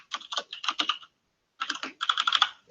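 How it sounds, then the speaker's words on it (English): Fast typing on a computer keyboard, heard as close, crisp key clicks in two quick runs with a pause of about half a second between them. "So just type this out quickly."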